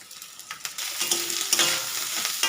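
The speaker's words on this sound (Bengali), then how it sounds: "নারকেলটা দিয়ে দিলে একটু ভেজেই নেবো" Grated coconut fries in a pan while a spatula stirs it, a steady close sizzle with scraping strokes repeating across the clip, no voices.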